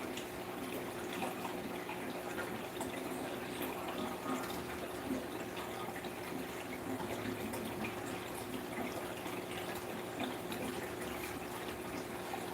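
Water runs steadily and softly during an aquarium water change, a continuous faint splashing stream with no voices.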